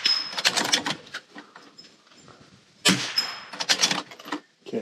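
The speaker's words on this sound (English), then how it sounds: "That was 10 shots, missing one." Rifle shots striking steel moving targets on a shooting range ring out in two tight clusters of sharp cracks and metallic clangs, loud and close, separated by a quieter pause.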